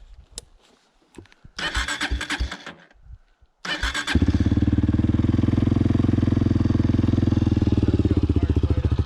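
A Honda CRF230F dirt bike fitted with an FMF exhaust pipe cranks over in a few short bursts, then catches and settles into a loud, close, steady thumping idle.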